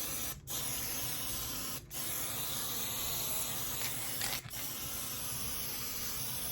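Close, steady hissing from a spray adhesive can, interrupted three times by short gaps between bursts.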